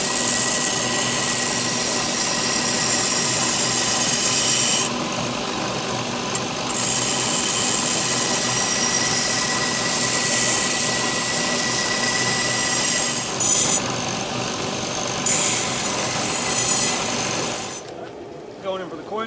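A bench grinder works a forged spike tomahawk made from an old ball peen hammer, a steady continuous whine with brief dips as the steel is lifted off, running loud and close before cutting out near the end.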